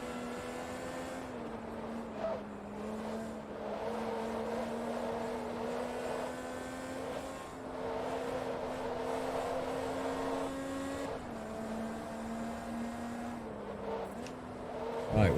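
Forza Motorsport 2 racing game audio of a Ferrari F40 race car, a continuous loud engine drone that rises and dips with gear changes and revving, heard alone without talk.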